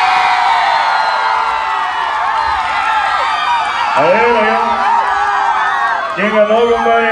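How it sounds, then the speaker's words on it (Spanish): A loud crowd at a dance contest cheering and shouting together, whoops and yells rising in a sustained roar, with a fresh surge of voices near the end. "El grito y el aplauso para la dos."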